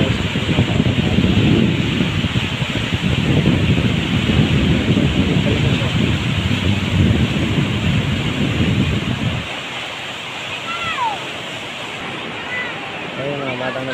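Strong waves crash on a seashore where boats are moored, with a heavy, continuous roar and wind buffeting the microphone. The surf drops to a quieter rush partway through, and faint high voices or birds come in near the end.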